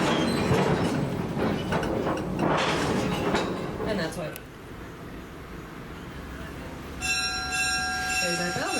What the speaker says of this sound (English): There's our bell.